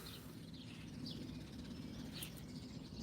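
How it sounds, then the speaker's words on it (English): Faint birds chirp and tweet in short scattered calls in the early morning over a quiet, low background hum, sounding distant and sparse. "birds are waking"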